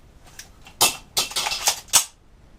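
Pistol shots at IDPA shooting practice: about five sharp reports in just over a second, unevenly spaced and fairly loud, with faint clicks before them.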